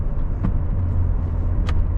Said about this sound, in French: si j'écrase l'accélérateur, on la sent partir la voiture tout de suite